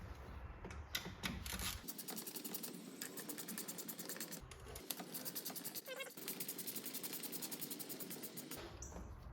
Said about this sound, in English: We're going to be using this number 5 hex head to tighten these.